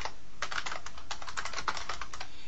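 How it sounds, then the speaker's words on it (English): Fast, steady typing on a computer keyboard in Word 2010, a close, continuous patter of key clicks with no talking. "maybe we'll type Rhode Island Red here"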